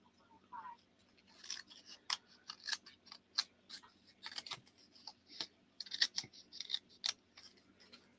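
Scissors trim paper in a quiet room at a craft table, a series of short crisp snips and cuts in uneven bursts, close and fairly soft, with no talk.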